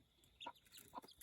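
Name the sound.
Sebright chickens clucking in pen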